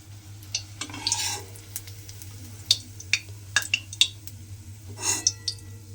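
Banana flower and shrimp fritters fry in hot oil with a low steady sizzle, broken by sharp clinks and scrapes of a utensil against the pan.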